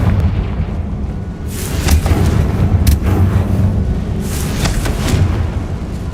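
Confringo fire-blast spell cast in the video game Hogwarts Legacy, a loud booming burst with crackling rumble that swells over a few seconds against a low continuous background, with a second flare of blasts later on.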